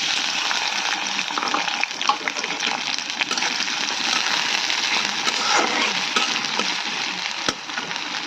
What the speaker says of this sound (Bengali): চুলায় একটা কড়াই বসিয়ে দিয়েছি তেল। এখন আমি দিয়ে দেব পেঁয়াজ আর কাঁচামরিচ।